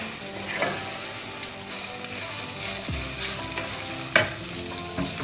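Cumin seeds and garam masala sizzle and crackle in hot oil while frying for crispy corn kababs, a steady dense hiss with occasional sharper pops and stirring scrapes close to the pan, no voices.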